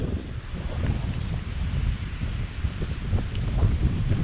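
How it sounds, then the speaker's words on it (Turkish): Steady coastal wind at Datça, Turkey, roars and buffets against the microphone outdoors, with low rumbling gusts and a hint of sea in the background. "Datça'nın bu tarafı da aynı Alaçatı gibi çok fazla rüzgar oluyor."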